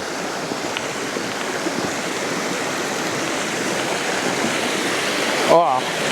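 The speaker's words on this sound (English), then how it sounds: "There's a bit of splashing of water about." Steady rushing, splashing water runs throughout in the rain, like a nearby stream, with a brief louder burst near the end, in the Derbyshire Dales.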